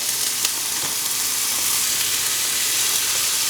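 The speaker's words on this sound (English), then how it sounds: "The bacon goes in." Bacon frying in a pan for a full English breakfast, a loud, steady, hissing sizzle heard close up with a couple of faint utensil clicks near the start.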